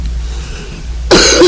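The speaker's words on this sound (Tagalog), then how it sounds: "Ubo pa gani ko din." A single loud, harsh cough bursts out abruptly near the end, close and sudden, following a second of quiet room noise, during a Filipino radio drama.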